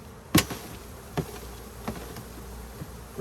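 Honey bees buzz in a low, steady hum as a brood frame is shaken, with one sharp knock at the start and a few light taps after.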